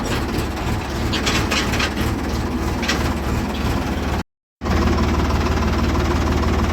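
A Ford tractor engine pulling steadily in second gear on a trip to fetch fodder from the fields: a continuous low, throbbing diesel rumble with a slight knock, close and constant, briefly cut out before resuming.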